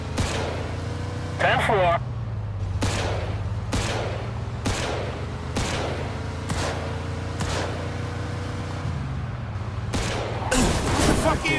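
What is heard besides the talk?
gunfire from a gun in the video game Mafia 2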